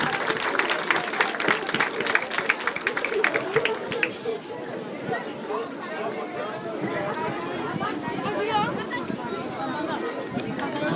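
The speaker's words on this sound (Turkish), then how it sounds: "Noch ein Riesenapplaus für die Kinder." A crowd at a spring festival outside a mosque claps for children, a dense sustained round of applause mixed with cheering and chatter that tapers slightly and then holds steady.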